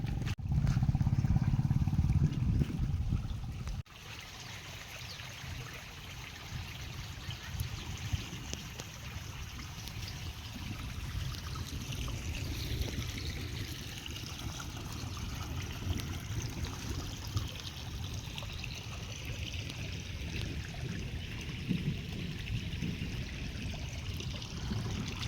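Rainwater runs off after a summer downpour, draining from the gutters toward the fields. A steady rushing, trickling flow carries on throughout, louder and heavier for the first few seconds.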